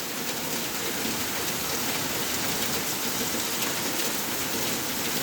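Torrential nighttime rain pours steadily just outside an open window, a dense, constant hiss of drops striking surfaces with no voices and an even, unbroken loudness throughout.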